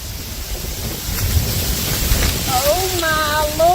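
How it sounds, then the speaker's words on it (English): Gust of wind at a night campsite, a rough rumbling rush that builds and buffets the microphone, followed by a voice calling out as the gust continues. "That was gust of wind."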